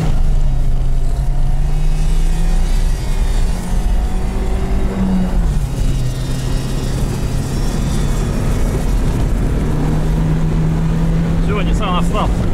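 A Lada Niva and a two-litre Nissan 4x4 launch side by side at an off-road drag race, with loud engines droning and revving up close and people talking over the noise.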